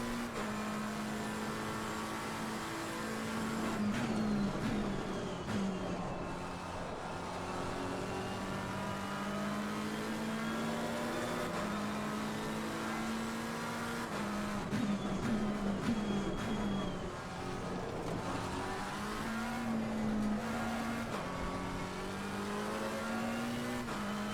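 A race car engine in the video game Assetto Corsa Competizione, revving and shifting through gears at a steady, moderate level, pitch rising and dropping with occasional tire noise, without any voice.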